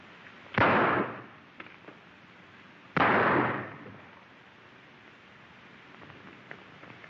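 Two sharp, loud gunshots about two and a half seconds apart ring out in a 1933 western shootout, each with a brief echoing tail, followed by a quiet background.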